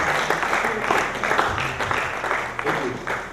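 Audience applause at an Africa NFT metaverse event, steady dense clapping from a crowd running throughout, with some voices mixed in underneath.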